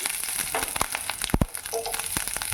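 Mustard seeds, cumin and garlic fry in hot oil in a pan, a steady loud close sizzle broken by sharp pops and spatters, with no voices.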